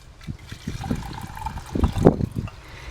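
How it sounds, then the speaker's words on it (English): Boiling water poured over pine needles to steep tea: a close, soft trickling pour with gurgling splashes that swell toward the end. "I'm going to pour the boiling hot water inside of here."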